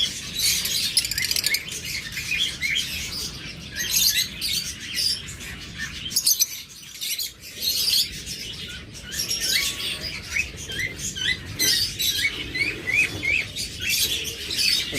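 Lovebirds, forpus, budgerigars and cockatiels chatter in a bird shop, a busy overlapping mass of high chirps and tweets that continues throughout, with occasional fluttering and a brief lull near the middle.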